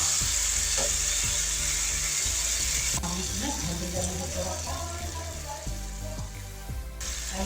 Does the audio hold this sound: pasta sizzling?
yes